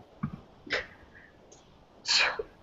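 A single sharp sneeze rings out in a quiet meeting room, preceded by a couple of faint breathy sounds and soft rustles.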